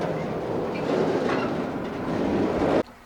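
A long, slow Union Pacific freight train hauling autorack cars rolls past, a continuous loud rumble with rhythmic wheel clatter that cuts off abruptly near the end.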